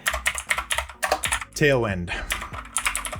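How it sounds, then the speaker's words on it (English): Quick, irregular keystrokes on a computer keyboard while a React and Tailwind CSS project is being set up, clattering close by with brief pauses, under and between a man's speech. "Wow, I am typing quite slow today."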